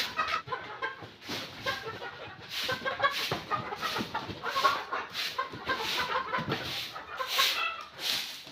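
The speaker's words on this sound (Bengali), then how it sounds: "ঘর পরিষ্কার করার জন্য আমি মুরগিগুলো বাইরে ছেড়ে দিছি।" Chickens on a poultry farm, let outside while their house is cleaned, cluck steadily in overlapping bursts at close to moderate range, with no voices.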